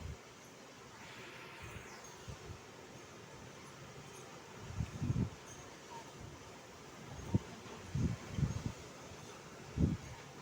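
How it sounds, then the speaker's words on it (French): Faint wind rushes and rumbles against the microphone, with several stronger low buffeting gusts of about 120 km/h arriving in bursts during a storm. "Là, c'est un vent violent, hein. Là, il y a 120 km/h."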